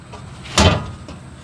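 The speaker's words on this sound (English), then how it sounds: "I have this little trap door" A small trap door on a chicken tractor feeder swings shut with a single sharp wooden knock, close and brief, surrounded by quiet outdoor background.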